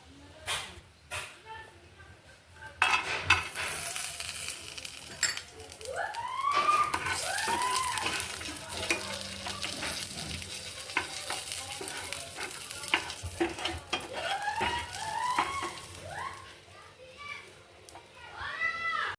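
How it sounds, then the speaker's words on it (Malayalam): Cashews and raisins shallow fry in a pan with a soft sizzle and occasional stirring clinks, while children play and chatter loudly nearby through most of the scene. "അണ്ടിപ്പരിപ്പും മുന്തിരി ജസ്റ്റ് ഒന്ന് ഷാലോ ഫ്രൈ ചെയ്തിട്ട് എടുക്കാം"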